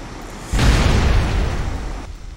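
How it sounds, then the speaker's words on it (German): A tank explodes in a firefighting video game set in Wegberg, during a tractor fire that escalates to a larger blaze. It starts as a sudden, loud, deep boom, then rumbles on for about a second and a half before cutting off. "der Tank kann dann doch explodieren"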